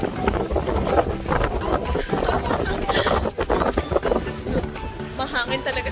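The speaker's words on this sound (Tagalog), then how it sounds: "Mahangin talaga sa labas." Strong wind buffets the microphone at a beach, rough gusty rumble throughout, while people talk and call out over it.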